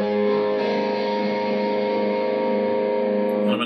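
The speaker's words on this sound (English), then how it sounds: "Nice interim level distortion setting." An electric guitar played through a moderate distortion setting rings out as one sustained, loud chord that holds steady for several seconds before cutting off, with no one talking.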